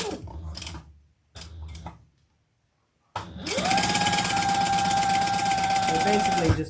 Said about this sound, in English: And we'll just do a basting stitch.